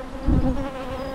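Honeybees buzz steadily around an open poly nucleus hive during a beekeeping inspection, a close continuous drone with a brief surge in loudness near the start.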